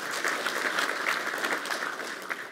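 Warm audience applause at a university academic-year inauguration ceremony in Koszalin, steady moderately loud clapping from a seated hall greeting a former rector, with no speech over it.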